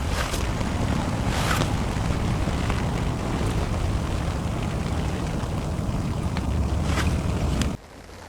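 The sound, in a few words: fishing boats passing on the loch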